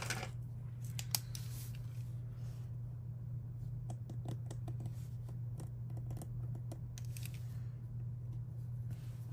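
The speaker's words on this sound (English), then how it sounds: "I'm going to cut the little star out so I don't have to waste it" Scissors snipping a small star shape out of sticker paper, a series of close, crisp cuts in irregular bursts over a low steady hum, with quiet pauses between cuts.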